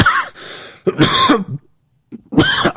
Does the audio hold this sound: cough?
yes